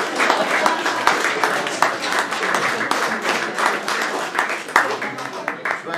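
A town council session audience claps in a sustained round of applause, many hands patting densely and evenly at moderate distance, with murmured voices mixed in.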